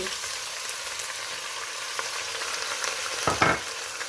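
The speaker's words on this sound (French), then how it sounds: "je vais mettre directement ma viande. J'ajoute directement les oignons et les lentilles." Meat, onions and lentils fry in olive oil in a pot for Moroccan harira, making a steady, close sizzle with a short burst of stirring clatter near the end.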